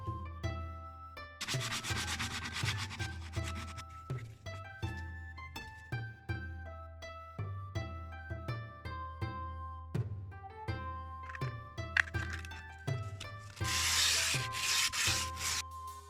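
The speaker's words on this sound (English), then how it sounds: "So let's sand it down." Steady abrasive rubbing of sanding on a 3D printed sword, continuous back-and-forth strokes with a louder, harsher burst near the end.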